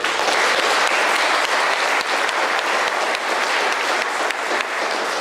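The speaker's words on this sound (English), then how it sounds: "Give yourselves a round of applause." A middle school audience bursts into loud, sustained applause for itself, many hands clapping in a thick continuous roar that fills the hall from start to finish, with no talking on top.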